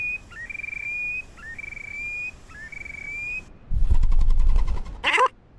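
A bird call, suspected as the 'bad bird' on a spring duck hunt, repeats three times as a clear rising whistle with a short flick at the start, followed by a louder burst of noise and one more sharp call.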